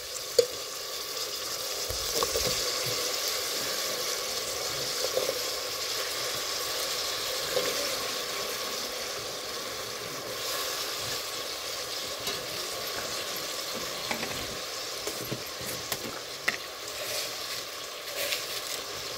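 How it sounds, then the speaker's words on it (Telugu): Potatoes and tomatoes fry in a pan for a potato pulao, giving a steady, dense sizzle throughout with a few faint scrapes and clicks of stirring; no voices. "ఉర్లగడ్డలు వేసుకుందాం."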